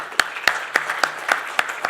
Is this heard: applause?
yes